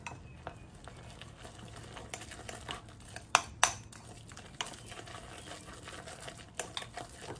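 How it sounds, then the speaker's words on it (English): Keto Chow birthday cake powder gets stirred into eggs and cheese in a bowl, giving soft, irregular scraping and clinking of a utensil with a few sharper taps, fairly quiet and close. "So I'm going to add this whole packet of birthday cake Keto Chow to this eggs and cheese. And so I'm just gonna mix that in."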